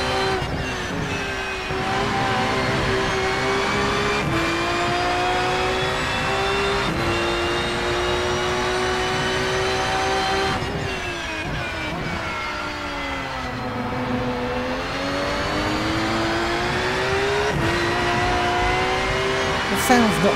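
A Porsche GT3 engine in a racing simulator lapping Hockenheim, with a continuous whiny tone that climbs through the revs, drops sharply at gear changes and dips under braking before rising again, loud and sustained.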